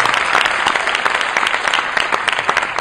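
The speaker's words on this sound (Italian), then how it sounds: "Un altro applauso per il CSI." A hall audience at a parish sports club presentation in Casatenovo, Lecco, claps loudly and steadily, a thick continuous burst of applause with no talk over it.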